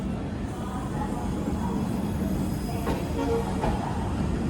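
The Howrah–Rampurhat Shaheed Express, fitted with new LHB coaches, rolls past with a steady low rumble of wheels on rails, broken by faint metallic clicks and a brief squeal as the carriages go by.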